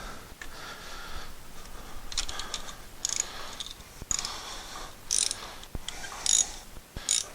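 A ratchet working on a spark plug in a 10th-generation 2016-2021 Honda Civic gives close, bright bursts of clicking pawl ticks in short irregular runs, separated by pauses and small metallic knocks.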